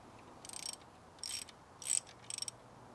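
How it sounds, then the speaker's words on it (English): Ratcheting socket wrench turning a nut onto a tie rod bolt on a Maserati Quattroporte front suspension, heard as four short bursts of quick clicks spaced apart, close and fairly quiet. "I used a socket and wrench to turn the nut so it had a few threads on the bolt."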